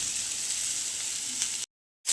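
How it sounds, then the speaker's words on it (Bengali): Oil sizzles steadily as bitter gourd fries in a pan, a soft continuous hiss that cuts off abruptly near the end. "উচ্ছে করে একদম লাল লাল করে ভেজে নেবো"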